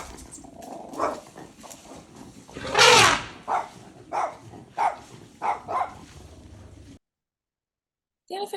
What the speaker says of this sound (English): Wow, that is a fierce dog.